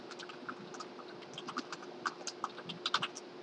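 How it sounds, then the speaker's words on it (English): Typing on a computer keyboard while making an app in Google Slides, a steady patter of close, light key clicks with a few louder strikes, no talk over it. "and I type things I like below it"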